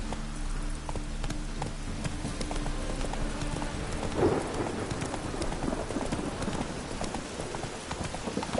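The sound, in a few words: horse hooves clip-clopping while riding in video game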